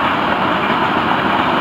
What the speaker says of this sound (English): They are running this train hard to Gifford to meet FEC's 101.